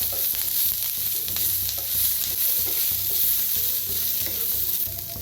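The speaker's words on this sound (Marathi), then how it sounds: "आता ह्याच्यातच टाकूया वाळ खोबरं घेतलेलं आहे बघा बारीक असं कापून ते मी भाजून घेऊया" Finely cut dried coconut roasting in a pan with oil, a steady close sizzle with scraping stirring strokes throughout, no voices.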